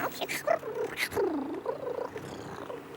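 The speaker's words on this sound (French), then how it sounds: "Un petit chat?" A cartoon kitten in an abandoned castle meows and purrs in a few short, rising and falling calls, fairly close and clear, with a faint voice briefly underneath.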